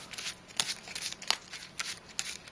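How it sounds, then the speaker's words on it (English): A deck of cards is shuffled close by in several quick, crisp riffling bursts with brief pauses between them. "Take the 5 zone cards, shuffle them up,"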